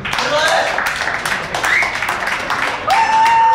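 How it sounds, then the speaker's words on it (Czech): An audience at a stage event applauds in a dense, close burst, with a few rising whistles cutting through the clapping and cheering. "Tak to se potlesk."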